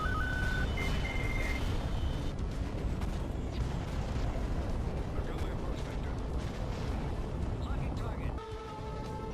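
In a space battle video game, torpedoes are blasted by point defense amid a dense, continuous roar of explosions and weapon fire, with occasional electronic beeps over the din.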